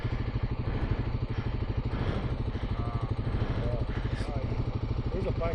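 A motorcycle engine runs with a steady, rough, throbbing note close by outdoors, continuous throughout, while people talk faintly underneath.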